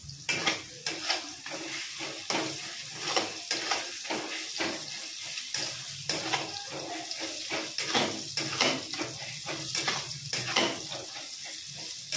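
Onions fry for birista in a home kitchen, a steady broadband sizzle with repeated scraping stirs and clinks of a spatula against the pan, fairly close, with no voices.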